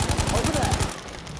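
A rapid burst of automatic gunfire in Battlefield 5 sounds close and loud, about a dozen quick shots in under a second before it cuts off.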